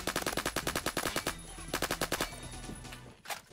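Rapid bursts of AKM rifle fire in a video game, a string of sharp evenly spaced shots, a brief pause, then another volley and a final few shots, with no talking.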